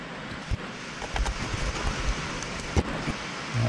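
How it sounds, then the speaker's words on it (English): Heavy rain falls steadily outside as a constant, dense hiss, with occasional louder patters and knocks close by. "It's really raining outside, so sorry if you can hear that."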